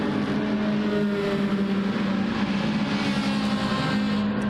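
A Mercedes AMG SLS GT race car in a GT4 Cup racing game, its engine droning steadily at high revs, loud and continuous with no talk.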